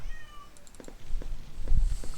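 A cat meows several times in the video game Mage's Initiation: Reign of the Elements, the short cries rising in loudness over soft background music and ambience.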